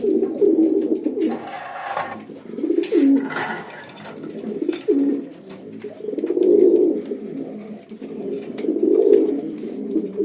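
Racing pigeons coo in repeated soft, throaty bursts, the low rolling calls rising and falling close by over roughly ten seconds with no talking.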